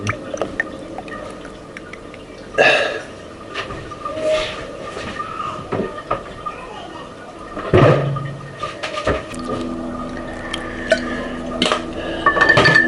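Special fried rice being stirred in a pan, with scattered clanks and scrapes of utensil on metal over a low kitchen background, irregular and close, no voices.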